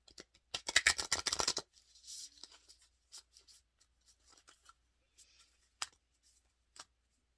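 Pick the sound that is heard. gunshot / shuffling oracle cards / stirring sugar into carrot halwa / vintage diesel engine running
shuffling oracle cards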